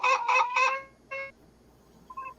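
Geese honk outdoors, three loud close calls in quick succession, then a single honk and a fainter one after short pauses.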